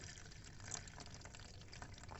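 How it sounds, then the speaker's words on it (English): Watery liquid from soaked cow dung cake fertilizer being poured into another container, a steady trickling, splashing flow that stays close and even throughout with no talking. "That the watery portion is to be poured in another container"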